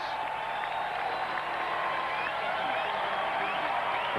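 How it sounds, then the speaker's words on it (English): A small baseball stadium crowd in Milwaukee applauds and cheers steadily at a distance, a continuous wash of clapping and voices without any big swell. "And this teeny Milwaukee crowd starts to make some noise."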